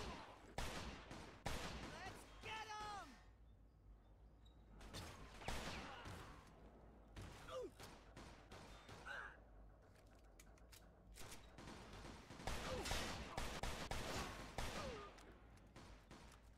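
Gunfire in the Mafia II video game, bursts of shots breaking out repeatedly across the scene with loud sharp clusters, mixed with shouting voices and game sound between volleys.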